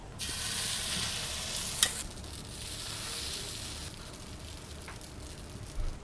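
Beaten egg with onion and green chilli hitting a hot pan, giving a broad, bright sizzle that flares loudly at first, then settles into a quieter hiss with a few light clinks of a utensil.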